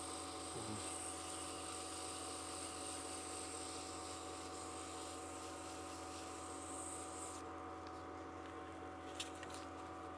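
A turned wooden goblet spins on a lathe while 240 grit sandpaper is held to it, heard as a faint, steady motor hum with a soft continuous hiss of sanding and a few small knocks near the end.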